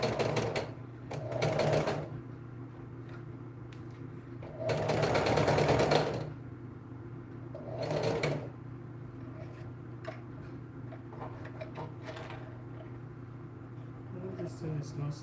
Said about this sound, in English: So as I'm sewing it, I'm removing the needle, the pin.